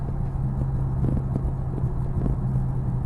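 A Scat car's engine and exhaust drone steadily from inside the cabin, a low continuous rumble with faint ticks and knocks over it, heard alone without voices.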